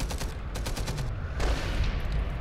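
Gunfire in the World War II shooter Enemy Front: a rapid string of close automatic shots crackles over a steady rumble of battle, continuing without a break and with no talking.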